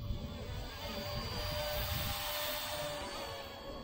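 Wltoys K170 RC helicopter motor whirring steadily at a faint distance, a thin continuous whine over soft airy rotor wash with no talk.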